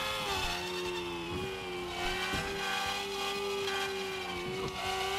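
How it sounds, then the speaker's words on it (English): A steady, loud engine drone with a constant whine, rising and shifting slightly as the revs change, as a video game car with a custom 4-speed gearbox using real-life ratios accelerates through loud gears. "Love this engine noise. The gears are very loud"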